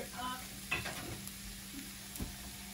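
Beef stir fry with onions and Korean barbecue-style sauce sizzling in a pan, a faint, steady crackle with a couple of brief soft clinks.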